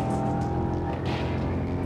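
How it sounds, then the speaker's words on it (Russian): A Porsche Panamera engine running with its exhaust bypass valve open gives a steady, deep, loud drone, heard from inside the car with no voices. "Это возможность открыть прямоток в выхлопной системе."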